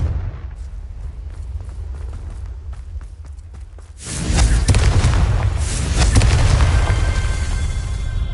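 Confringo spell explosion in Hogwarts Legacy: a quiet stretch of small ticks and crackles, then a sudden loud fiery blast with a long roaring, crackling tail that stays strong to the end.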